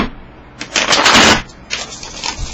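A tarot card deck is shuffled up close: a loud riffling burst lasting nearly a second, then a softer second riffle right after.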